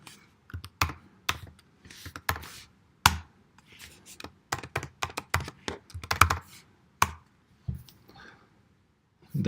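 Fingers tapping out a username on a computer keyboard, irregular bursts of crisp close clicks with short pauses between keystrokes, quiet room otherwise.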